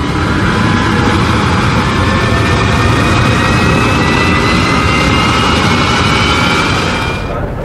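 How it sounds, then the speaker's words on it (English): A jet engine mounted on a semi-truck tractor trailer at a drag strip roars in a loud, sustained whine with rising tonal streaks, steady and close throughout before easing slightly at the end. "the semi-truck behind us is clearly some sort of tractor trailer setup with a jet engine."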